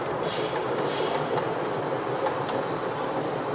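Gauge 1 (1:32 scale) model train S26 running on a modular layout track in a museum hall, a steady close rolling rumble with faint rhythmic clicks from the wheels, no talk.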